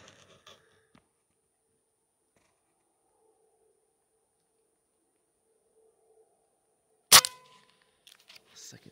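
A single sharp crack from a Diana Stormrider .177 gen2 air rifle fired freehand, loud and close, rising abruptly out of near silence and followed by faint handling noise.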